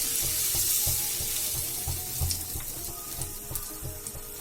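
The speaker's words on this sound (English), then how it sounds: "Now I am adding the batter or the mixture over to the tawa or the pan." Chickpea flour batter poured onto a hot oiled tawa gives off a steady, bright sizzle and hiss, with faint scraping ticks from spreading the batter throughout.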